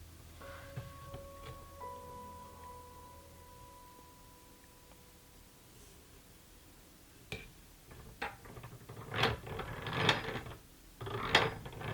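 A large yarn winder runs with a faint mechanical whir and a thin whine at first, then turns busier with clattering gear and ratchet clicks and knocks growing louder near the end, no talk.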